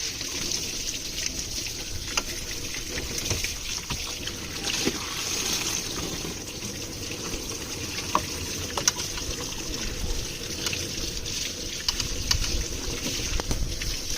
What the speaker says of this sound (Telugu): మొత్తం అంతా కూడా క్లీన్ అండ్ ఫ్రెష్ వాటర్ అయితే వస్తుంది